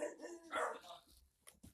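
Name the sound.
dogs barking in a house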